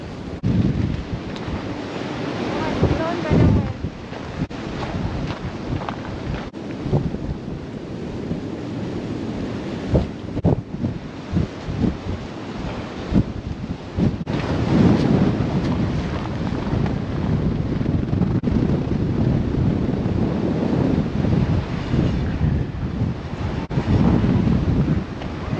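Strong blizzard wind of around 50 miles an hour roars near a bridge, a loud continuous buffeting rush battering the microphone with gusts swelling and easing throughout, no voices.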